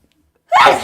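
A single sharp sneeze bursts out close to the microphone after a brief silence and ends quickly.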